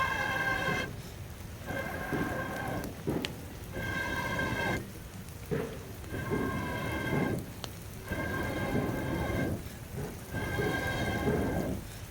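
Rain pours steadily outdoors during a monsoon shower beside a wood-fired cooking stove, a continuous wash of noise broken by recurring louder tonal bursts every couple of seconds.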